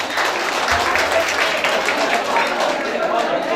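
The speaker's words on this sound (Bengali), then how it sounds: "ম্যাডামকে করতালির মাধ্যমে" A student audience at a university rag day event applauds loudly and continuously, a dense wash of clapping with crowd voices mixed in.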